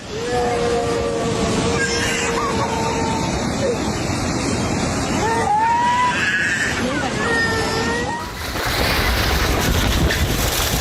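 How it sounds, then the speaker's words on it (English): Muddy floodwaters rush through streets in Baghlan, Afghanistan, a continuous loud turbulent roar with wind buffeting the microphone and voices in the background. "Devastating floods swept through Baghlan, Afghanistan, turning the streets into violent rivers and pushing muddy water through the neighborhood with terrifying force."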